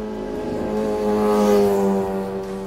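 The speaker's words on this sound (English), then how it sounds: "I know most Honda Hornet fans love to hear the high revs of this engine." A Honda Hornet motorcycle engine in a cafe racer build revs high and steady, the pitch climbing briefly then easing back, heard close and alone.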